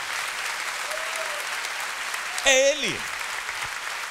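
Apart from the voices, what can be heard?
applause in church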